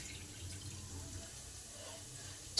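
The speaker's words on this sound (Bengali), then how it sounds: "এবার চালটাকে ভালো করে ধুয়ে নেব।" Rice being rinsed in water with the tap running, a steady soft watery wash throughout that ends in a brief louder splash.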